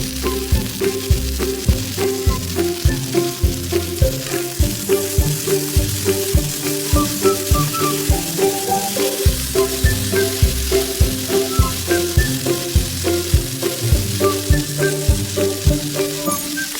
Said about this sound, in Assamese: আৰু ভাতৰ লগত খাবলৈ মই গৰম গৰম ভাজি বনাইছোঁ।